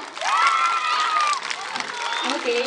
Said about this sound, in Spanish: ¡Aplaudiendo a todos los niños!